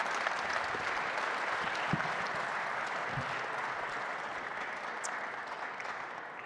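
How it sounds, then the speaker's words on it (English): Audience applause for a panel at a nuclear reactor prototype unveiling, a moderate steady wash of clapping lasting several seconds, fairly distant and fading slightly toward the end. "Let's give them a round of applause."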